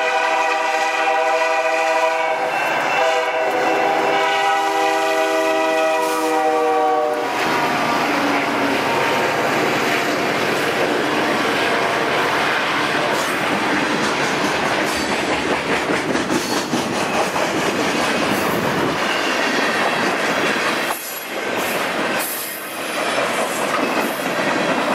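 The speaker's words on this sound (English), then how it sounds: "Oh my God, a train!" A train horn sounds in long, loud tones, then the train rumbles past nearby with a steady clickety-clack of wheels on rails for the rest of the time.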